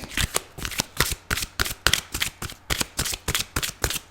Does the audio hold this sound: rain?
no